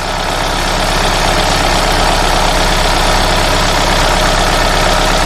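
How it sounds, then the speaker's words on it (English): A Hyundai Sonata engine idles steadily, just back from an intake manifold replacement after an intake runner flap fault. Close and loud, it holds an even, continuous low hum with broadband mechanical noise and no voices. "as you can hear, the engine is running"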